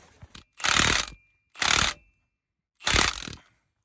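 Three long ratcheting bursts from a ratchet wrench tightening the caliper bolts on a Steiger tractor's brake rotor, each run of clicks lasting about half a second with short pauses between, close and fairly loud with no talking.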